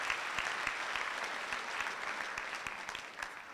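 Big round of applause from the audience at a university graduation ceremony, a continuous crowd clapping with distinct nearby hand claps popping through the steady wash.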